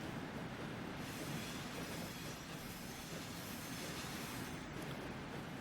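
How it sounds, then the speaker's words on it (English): A train rumbles along the rails in Transport Fever 2, a steady, dense wheel-and-track roar with faint squeal that keeps up without a break throughout, and no talking. "Train had to slow down a little bit there for that train coming out of the yard."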